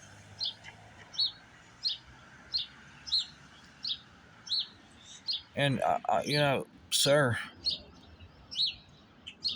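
Small birds chirp in short, evenly spaced calls, faint and somewhat distant, repeating roughly every half second, while a voice breaks in partway through with a few words.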